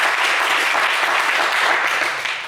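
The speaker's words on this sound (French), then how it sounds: "On peut applaudir Christopher très fort" A studio audience on a French game show claps and cheers in steady, dense applause that holds throughout and eases off slightly at the end.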